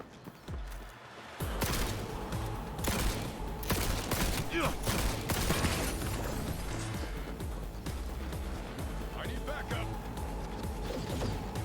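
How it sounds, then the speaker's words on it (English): Pistol shots in Cyberpunk 2077 crack out in a dense run of sharp transients after a quiet opening, mixed with crashing impacts and game action at steady high loudness. "Very curious if this pistol does anything."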